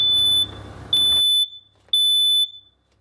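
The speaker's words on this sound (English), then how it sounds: "Fire alarms are much safer nowadays. You can just push a button to test it." Loud, piercing electronic beeps from a household smoke alarm being tested, three long shrill tones spaced about half a second apart, close and alone with no voices.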